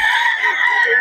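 A chicken clucking and calling loudly up close at a live poultry market in Bocaue, a continuous run of throaty bird vocalizations.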